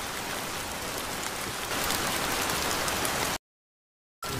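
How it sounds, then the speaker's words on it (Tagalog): Heavy rain in a Filipino animated scene pours as a dense, steady hiss for over three seconds, then cuts to a sudden silence before resuming briefly. "Ang lakas ng ulan, no?"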